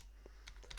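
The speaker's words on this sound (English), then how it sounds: "To do that, we type pip install" A few quiet keystrokes tap on a computer keyboard as a pip install command is typed, short irregular clicks over a faint low hum.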